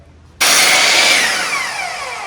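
A Bosch miter saw cuts through wood: the motor bursts in loudly after a short quiet lead-in, then a sustained bright whine with a descending tone as the blade spins down.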